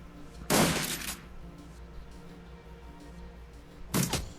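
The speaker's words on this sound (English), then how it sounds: "Yeah, messing around with the turrets." Turrets in Shadowrun Dragonfall let off two loud, short bursts of fire, one near the start and another about three seconds later, over a low, quiet game ambience.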